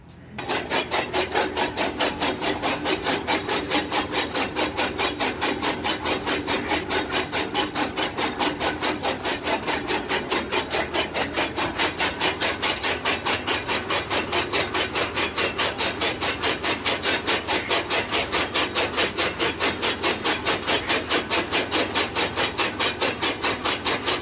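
A motor-driven chaff cutter chops green fodder in a steady, rapid rasping rhythm that runs unbroken for the whole stretch, close and fairly loud with no voices.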